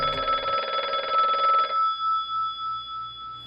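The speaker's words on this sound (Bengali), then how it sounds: "বলি ফোনটা যে বাজছে, আমি ধরবো না তুমি ধরবে?" A telephone bell rings loudly in a Bengali TV-serial household scene, a dense trilling burst lasting under two seconds, then a fading electronic hum.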